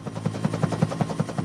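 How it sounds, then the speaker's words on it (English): Harold the helicopter from the Thomas and Friends cartoon flies with a rapid, even rotor chop, about five beats a second, close and steady with no voices over it. "Here's Harold the helicopter. What sound does Harold make when he flies?"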